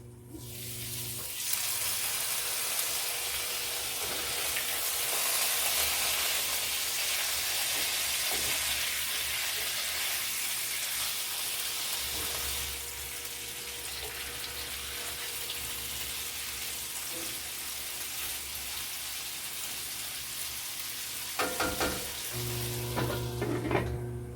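Food fries in a covered pan during a home-cooked Sunday breakfast, with a steady, fairly loud sizzle that runs the whole time and a few brief clatters near the end.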